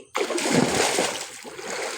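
A person leaps and lands in water with a sudden loud splash, followed by continued churning and splashing close by for nearly two seconds.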